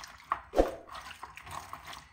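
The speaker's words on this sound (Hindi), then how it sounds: "अभी इनको 2-3 पानी से धो लेंगे।" Okra being washed in water: close splashing and sloshing with a few louder drips and plops, continuous throughout, with no voices.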